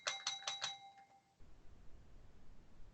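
A bell rings in a fast run of four or five bright chimes that fade out, then a faint room background remains.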